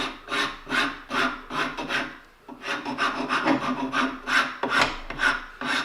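A rasp scrapes back and forth across wood held in a vise to smooth bandsaw marks, loud rhythmic rasping strokes about one per half-second, pausing briefly midway before resuming.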